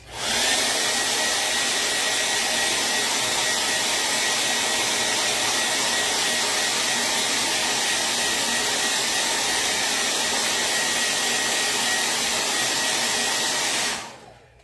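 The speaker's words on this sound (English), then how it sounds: "I'm going to blow dry it really quick" A hair dryer blows steadily on a freshly waxed chalk-paint porch sign, a loud continuous whooshing roar that runs without a break for about fourteen seconds before switching off.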